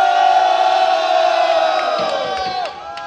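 Live audience at a freestyle rap battle semifinal in Puglia roaring and shouting together to vote, a loud sustained crowd cheer that fades toward the end.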